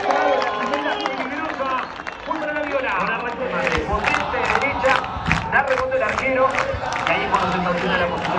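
A football crowd singing together in a stadium, a loud chorus of many voices with scattered claps and shouts, someone talking nearby over it.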